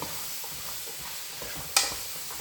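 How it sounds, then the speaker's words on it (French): Courgettes frying in a pan get a stir, a steady soft sizzle with light scraping and one sharp clack of the utensil partway through; no voices. "J'en profite pour mélanger un peu mes courgettes."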